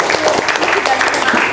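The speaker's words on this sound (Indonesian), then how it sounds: "Beri tepuk tangan untuk Naura." Students in a classroom give a short burst of clapping for a classmate, brief and close, with voices mixed in.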